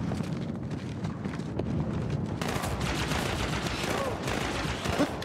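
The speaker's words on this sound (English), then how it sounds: "Who is shooting at our buddy here?" Gunfire in Halo 2 Anniversary Edition crackles in dense, rapid bursts through a noisy battle scene, with a louder stretch of continuous shooting in the second half.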